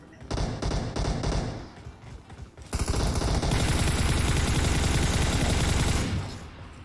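Dense automatic gunfire from a PUBG Mobile match, several short bursts of rapid shots followed by a long, loud sustained volley that cuts off abruptly.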